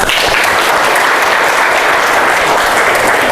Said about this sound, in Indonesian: Applause buat kita.